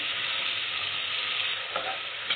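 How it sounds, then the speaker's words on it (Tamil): Green chillies and ginger garlic paste sauté in a hot oiled pan for tomato rice, giving a loud, continuous hiss of sizzling with slight swells as the mixture is moved. "இஞ்சி பூண்டு பேஸ்ட்டு சேர்த்து நல்லா வதக்கிக்கிறோம்."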